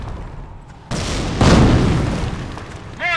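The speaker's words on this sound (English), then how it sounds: "Mortar ready! Commencing barrage!" Mortar barrage explosions in Company of Heroes: a sudden broad boom lands, then a second louder blast swells and rumbles on before tailing off, with a short tonal chirp at the end.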